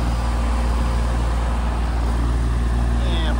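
A new AC condenser fan motor runs in an outdoor unit, producing a loud, steady, dense whirring roar with a constant low hum and no breaks.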